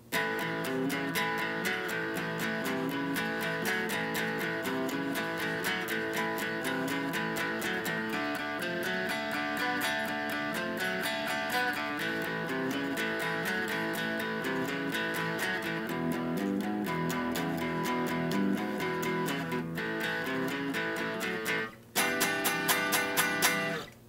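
An electric guitar plays a driving blues shuffle riff in A with a steady swung rhythm, repeating throughout and closing on a brief pause and restart.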